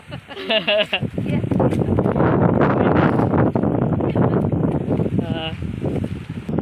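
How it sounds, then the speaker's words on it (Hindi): Strong westerly wind blows across a wheat field during harvest, a loud, continuous rushing roar buffeting the microphone, with people talking over it at the start and near the end. "देख तऽ कते हवा चलै छै"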